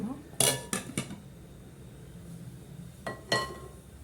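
Lidded pot of herb soup (thyme and ras el hanout) being covered, giving a few sharp metallic clanks near the start and two more near the end, close and moderately loud over a quiet kitchen background.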